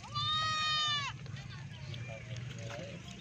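A nanny goat with four kids gives one long, loud, wavering bleat close by, then someone talks.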